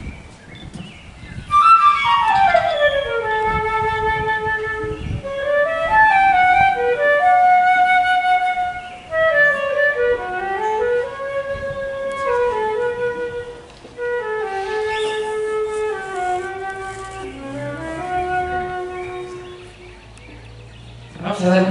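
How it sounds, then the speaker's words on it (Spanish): A teacher plays a solo melody on a transverse flute in a symphonic band setting, with clear, high, sustained notes that glide between pitches in flowing phrases and pause briefly between them. "vamos a pedirle a la maestra que nos muestre el sonido de este instrumento"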